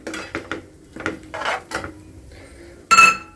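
A spoon stirs a boiling potato mixture in a pot on the stove, making a series of short, close scraping strokes against the pot, with a louder scrape near the end.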